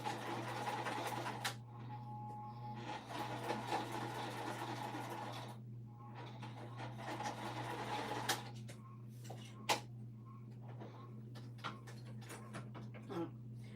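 A sewing machine stitching fabric for foundation paper piecing runs in steady whirring bursts with brief stops over a constant low hum, close and fairly quiet, ending in a few clicks and knocks.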